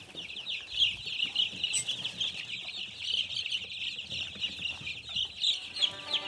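A group of one-week-old chickens peeps continuously in high, overlapping chirps with occasional soft clucks, a busy, steady chorus heard up close.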